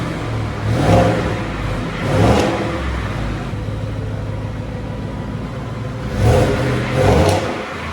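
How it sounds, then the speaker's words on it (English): A 2020 Ford F150 with a 5.0 Coyote V8 and resonator-delete exhaust idles with a deep steady rumble, broken by four short throaty blips of revving, loud and near. "That sounds a lot throatier. You can hear it's got a little bit of rumble to it. Idle's coming down."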